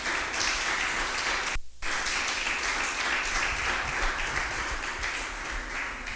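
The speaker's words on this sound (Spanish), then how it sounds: "Damos una ofrenda de palmas al Señor." A church congregation bursts into sustained applause as an offering to the Lord, many hands clapping densely and loudly with a brief pause early on before continuing.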